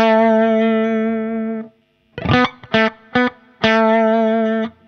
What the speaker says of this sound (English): we'll start with the room reverb